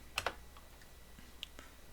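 Short burst of computer keyboard keystrokes while typing a file name on a PC, a few quick close clicks clustered early, then one or two isolated taps in a quiet room.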